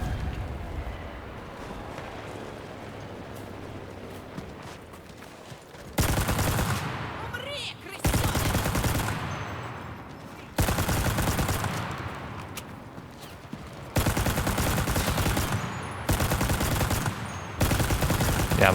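Gunfire from the World War II shooter Enlisted comes in loud bursts of rapid automatic fire separated by quieter stretches of background battle noise, sustained and close over the whole stretch.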